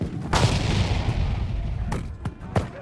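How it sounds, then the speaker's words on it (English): Several sharp artillery booms from a sound effect in a Pub Battles Waterloo board game replay, one early blast with a long rumbling tail followed by three quick cracks near the end. "Zieten's artillery fires."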